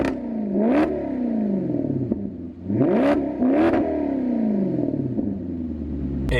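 Maserati GT engine revving hard in sport mode with its exhaust valves open, three sharp rising blips that fall away between them, loud and close with no talking.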